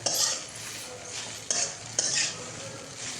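Sabudana khichdi mixture, tapioca pearls with crushed peanuts, being stirred and sautéed in a pan, with steady sizzling and a few sharp scrapes of a spoon against the metal, close and without talk.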